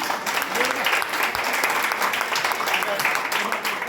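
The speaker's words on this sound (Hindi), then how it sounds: "अगर 3 सेकंड से जोरदार तालियां हो जाए" Loud, steady applause from participants at a seed ball making workshop, a continuous dense clatter of many hands with a voice briefly audible beneath it.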